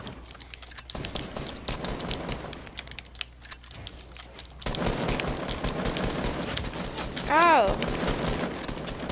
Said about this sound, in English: Why is there shooting?